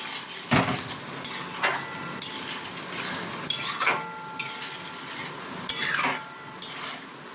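Chili chicken coated in cornflour slurry fries in a pan under a soft, steady sizzle, while a metal spatula scrapes and clanks against the pan in repeated strokes every second or so.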